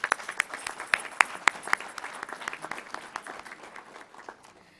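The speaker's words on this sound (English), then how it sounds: "Please join me in giving one more round of applause to all of our speakers and presenters." Audience applause at a college new student convocation, with sharp individual claps standing out early and then a dense round of clapping that gradually fades out.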